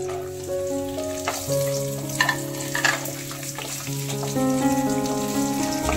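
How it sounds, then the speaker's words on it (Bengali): Cashews and raisins fry in hot oil in a pan, giving a steady close sizzle along with occasional stirring scrapes and clinks. "কিশমিশ কাজু বাদাম ফ্রাই হয়ে গেছে"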